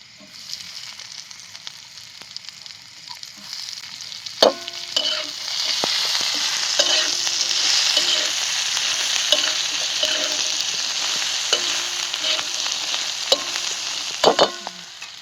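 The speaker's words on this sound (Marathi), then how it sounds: "बोंबील पण तळून झाले तया त्यात परत हे भाजलेला कांदा टाकून घेणार आहे तळून घेतलेला" Bombil fish frying in a pan with roasted onion, a steady close sizzle of hot oil with intermittent scraping and clinking of a spatula stirring against the pan.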